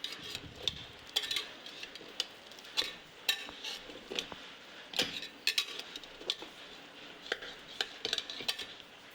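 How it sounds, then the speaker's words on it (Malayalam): A utensil works around the sides of a steamed rice appam (vellakkalathappam) inside a cooled pressure cooker, making faint, intermittent metallic scrapes, clicks and taps at an irregular rhythm, close by, with no talking. "അപ്പത്തിൻ്റെ സൈഡൊക്കെ ഇങ്ങനെ ഇളക്കി കൊടുക്കണം."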